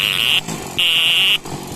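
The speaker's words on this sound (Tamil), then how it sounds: "ஆர்என் நல்லா இருக்குது." An old TVS Champ moped's electric horn gives two loud, flat, buzzy honks close up, the first shorter and the second longer, separated by a brief pause.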